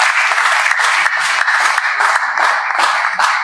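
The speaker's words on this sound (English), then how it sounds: "We are going to clap for her." Clapping from an audience for a speaker at a talk on artificial intelligence in politics, a loud, close crowd of hands beating in a fast, steady patter that carries on unbroken throughout.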